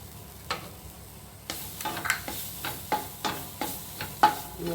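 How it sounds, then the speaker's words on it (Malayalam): Grated coconut roasting in a pan for ellunda gives a quiet sizzle under a series of distinct scraping and tapping stirs, roughly one every half second. "നമുക്ക് ആ പാനിൽ തന്നെ ഒരു 60 ml തേങ്ങയോടെ നമുക്ക് മൂപ്പിച്ചെടുക്കാം."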